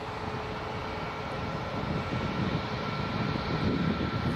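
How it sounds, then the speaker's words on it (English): A Porter Airlines Embraer E195-E2 jet at Toronto Pearson at night gives a faint, steady engine drone at some distance, with a thin tonal whine over a broadband hum. "Porter 135 headed to Montreal on an Embraer E195 E2"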